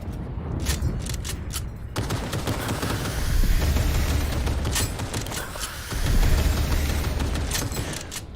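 Gunfire in Cyberpunk 2077 comes as repeated sharp bursts of shots, with an enemy firing often. They sit over a rumbling, busy background of low booms and mechanical noise.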